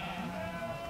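Sheep bleating on a Romanov-type sheep farm in Adygea, a steady, moderately loud bleat lasting about a second with no talk over it.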